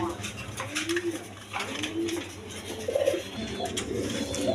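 Pigeons kept for sale cooing up close, soft repeated low coos in short phrases with bits of background noise and some faint talk in between.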